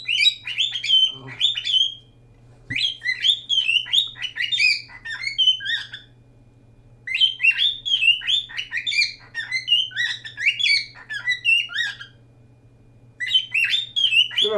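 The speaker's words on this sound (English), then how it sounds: "Shut up, bird." A pet bird chirps and squawks in repeated bursts of rapid high calls, close and loud, with short pauses between bursts over a low steady hum.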